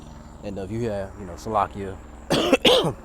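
Someone talks, then breaks into a couple of harsh, close coughs near the end, with a helicopter droning faintly in the background.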